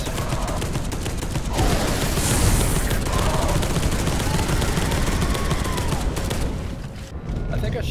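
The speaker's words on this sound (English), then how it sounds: "I think I shot that plasma cannon a wee bit too close to my face." Plasma cannon fire in the co-op shooter Space Hulk: Deathwing, a dense roaring burst of sci-fi weapon blasts and booms that stays loud and continuous before tailing off near the end.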